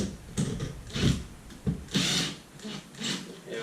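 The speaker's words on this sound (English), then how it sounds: "Hold it there with the long nose and start screwing it in until it starts catching." A wall toggle fixing is screwed into a wall for mounting a rangehood bracket, heard as short repeated grinding and whirring bursts with brief pauses between them, close and fairly loud.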